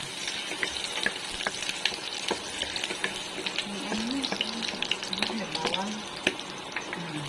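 Sliced ginger hits hot cooking oil in a pan while squid adobo is being made, giving a steady close sizzle with scattered clinks and scraping, and a voice speaks faintly beneath it.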